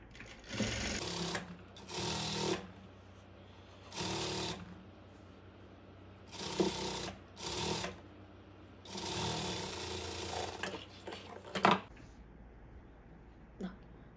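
Sewing machine stitching a frock in bursts, several loud runs of rapid mechanical clatter separated by short pauses, close and alone.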